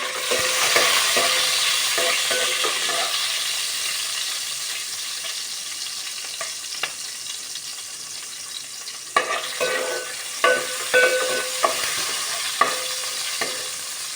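Green chillies fry in hot oil with mustard seeds and cumin, a steady close sizzle broken by scraping stirs and occasional sharp clinks of a spoon against the pan.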